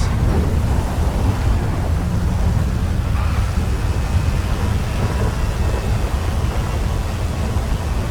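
Steady rain with a low rumble of thunder and wind during a GTA FiveM race, a dense, continuous wash of noise at constant loudness with no voices.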